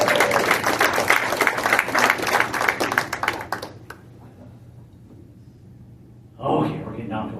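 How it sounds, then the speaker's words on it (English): Lively audience clapping at a live performance rings out for a few seconds, then stops abruptly into near silence before a voice picks up talking. "Give her a round of applause."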